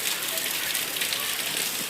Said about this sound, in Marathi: आला पाऊस झालं चालू बघा